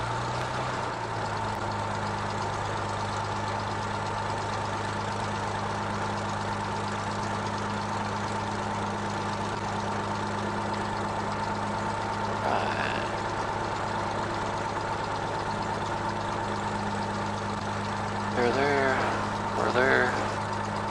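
A light aircraft engine idles steadily through a run-up check, a constant droning hum heard from inside the cockpit, with brief radio-like voice bursts near the end.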